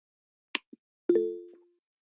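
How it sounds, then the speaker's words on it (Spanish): A short notification chime in an online class: a soft pop and a tiny tap, then a clean bell-like ding that rings out and fades within half a second, with no talk. "¿Quién tocó el timbre?"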